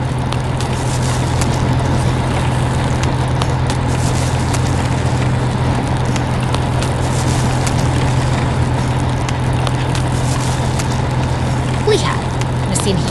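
A green tractor works a rice field in a farm animation, its engine holding a steady, low, droning hum from start to finish over a constant wash of background noise.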